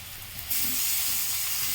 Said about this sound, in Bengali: চিকেনগুলো ভালো করে পেঁয়াজের সাথে একটু ভেজে নেবো